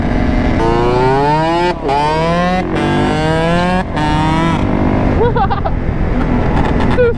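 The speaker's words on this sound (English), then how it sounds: "2-stroke ripping." A Yamaha YZ125 two-stroke supermoto engine revs loud and close, its pitch sweeping up and down through several sharp rev cycles with brief drops between throttle blips.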